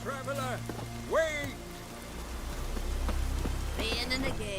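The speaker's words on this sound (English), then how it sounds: "Raining again." Rain falls steadily in The Witcher 3: Wild Hunt, a soft patter that swells toward the end, with voices talking over it in places.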